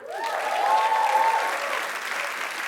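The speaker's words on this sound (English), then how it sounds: "people are applauding for rain" A crowd breaks into a steady burst of applause for rain after a long dry spell, a brief even wash of clapping heard at moderate distance with a whistle or cheer near the start.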